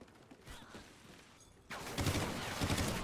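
Automatic gunfire bursts from a Call of Duty Ghosts match, quiet rattling at first, then a loud sustained burst of rapid shots from about the halfway point to the end.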